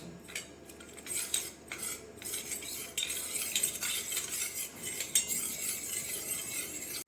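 A spoon scrapes and clinks continuously around a bowl, stirring a thin cornflour-and-water slurry with quick, repeated strokes and no talking.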